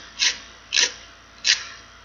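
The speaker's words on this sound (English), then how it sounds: "You're going to take and you're going to file off that excess." A nail file rasps off excess Jamberry nail wrap in three short, crisp strokes spaced evenly apart, close and fairly quiet with no talking.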